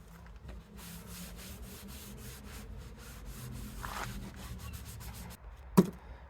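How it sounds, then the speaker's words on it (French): A wooden piece for a kayak hull protection is sanded to round off its corners, giving a steady, close rasping rub in repeated strokes, with a sharp knock near the end. "j'ai terminé de poncer ma pièce, comme ça j'ai pu arrondir les angles"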